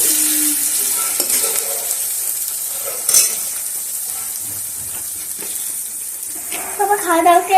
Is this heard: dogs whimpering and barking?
no